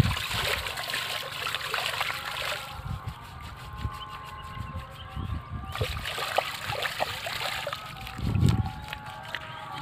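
A water buffalo splashes and sloshes in muddy water, steady trickling and splashing close by with a louder slosh near the end, under background voices.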